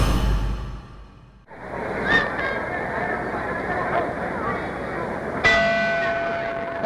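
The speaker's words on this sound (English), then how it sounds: "There's the bell for round 5." A boxing ring bell at a 1960 fight sounds a clear ring signalling the start of round five, heard over the steady hubbub of a large arena crowd, with a second struck tone a few seconds later.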